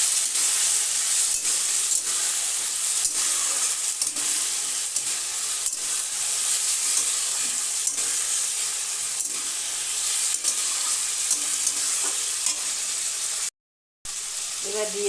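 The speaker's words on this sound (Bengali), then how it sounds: "দিয়ে ভালো করে ঝিঙের সাথে কষিয়ে নিলাম" Ridge gourd sizzles steadily in a pan with ginger and green chilli paste as it is stir-fried, a continuous loud hiss with faint scraping stirs, broken by a brief silent gap near the end.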